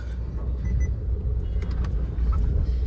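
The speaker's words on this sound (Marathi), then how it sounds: "तर आता आपली गाडी इथनं निघत आहे." A car pulling off a ferry, heard as a low rumbling engine and road noise that runs steady throughout, with a few faint clicks and rattles on top.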